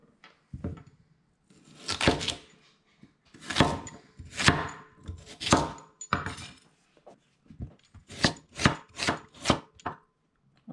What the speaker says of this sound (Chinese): 把所有 beetroot 的皮都处理好了，接下来咱们把它切碎，然后打成汁来和面。